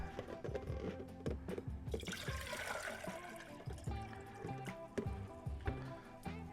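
About a quart of rinseless car wash solution pours into a container, a soft, steady trickling and splashing stream with small glugs, heard close and fairly faint.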